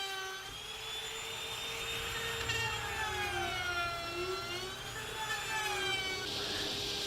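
A power saw cuts the lid off a wooden box with a steady, loud whine whose pitch wavers as the blade works through the wood, continuous throughout with no talk.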